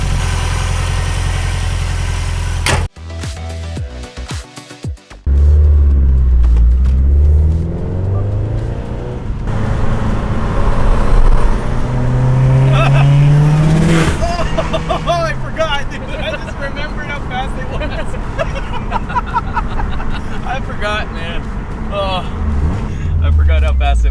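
A 600+ whp Subaru STI starts up and drives off, its engine rumbling close by and then climbing in a loud rising rev as it accelerates, with people talking inside the car throughout.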